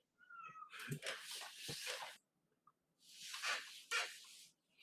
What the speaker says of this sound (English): my fucking cat is in the fucking closet